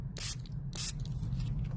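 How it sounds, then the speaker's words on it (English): A Distress Sprayer with a fine mist nozzle sprays water in two short, close hissing bursts over a low background hum, with no voices. "I'm going to take my Distress Sprayer and the Fine Mist and just spray water"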